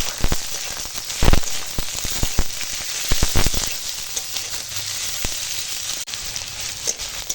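Chopped potato pieces sizzle and crackle steadily in a hot pan after lightly fried onion, with a few louder pops and scraping stirs near the start.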